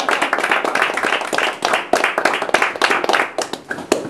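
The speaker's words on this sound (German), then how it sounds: "Ich denke, dieses Engagement, das verdient auch einen kräftigen Applaus." Loud, close applause from an audience at a real estate talk in Frankfurt, with sharp individual hand claps standing out in a dense, uneven rhythm throughout.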